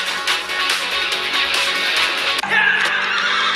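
A horse neighs in a TV commercial, a loud, sustained whinny running over a dense background with music.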